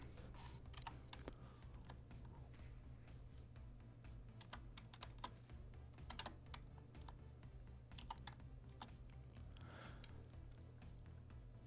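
Test values entered on a computer keyboard, a quiet, close patter of uneven keystrokes with brief pauses, running steadily over a low constant hum.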